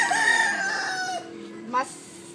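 A single rooster crows, a long drawn-out cock-a-doodle-doo that falls in pitch, then gives a short squawk at the end, heard fairly close and loud on its own.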